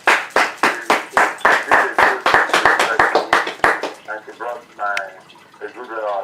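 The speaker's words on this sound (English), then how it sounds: "Please, can we all give the woman a round of applause?" An audience after a presentation claps about a dozen loud, rhythmic, close-sounding claps for nearly four seconds, then the clapping stops and a voice speaks.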